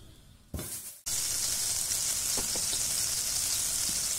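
Butter sizzling in a hot saucepan: a brief rustle and clunk, then a sudden loud, steady hiss of frying fat that continues close and unbroken.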